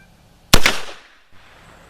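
A single loud rifle shot from a 7.65x53 Mauser firing Lyman 311413 cast bullets, a sharp crack with a decaying ring, followed by a faint thump, outdoors at a range.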